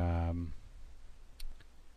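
A computer mouse gives two quick, faint clicks close together, just after a voice stops speaking, while a file is selected and right-clicked on a computer.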